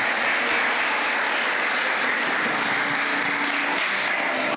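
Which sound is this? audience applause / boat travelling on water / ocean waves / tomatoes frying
audience applause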